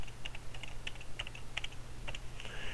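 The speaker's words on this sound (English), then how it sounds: "Go ahead and type in your password." Someone types a password on a computer keyboard, a quick irregular run of light key clicks at close range, fairly quiet and without talk.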